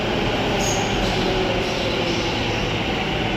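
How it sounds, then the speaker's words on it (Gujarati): An Ahmedabad metro train pulls into a station with a steady, loud rumbling roar and a faint high squeal from the wheels. No voices are heard. "મિત્રો ગાડી આવી ગઈ."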